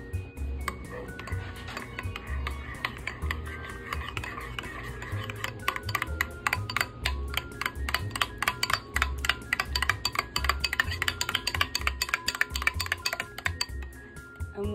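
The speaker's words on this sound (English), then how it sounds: "And now you're just gonna whisk it, and this is gonna be your sweet and sticky sauce." Whisk clicking and scraping against a bowl while mixing a creamy chipotle sweet and sticky sauce for spare ribs, a rapid steady run of light metallic ticks close by, with no talk.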